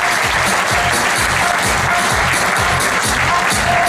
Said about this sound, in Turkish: Güçlü bir alkışlarla Çiğ grubu buraya bir gelsin.